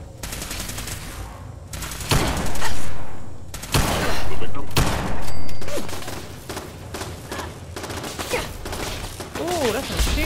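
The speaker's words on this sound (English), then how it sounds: "Ooh, that's a machine gun." Loud bursts of machine gun fire in Fallout 4, with rapid rattling volleys broken by short pauses amid a chaotic battle; a voice is heard briefly among the shots near the end.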